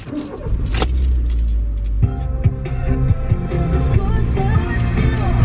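A car engine catches and settles into a steady idle from inside the vehicle, preceded by a brief jangle of keys, loud and close throughout.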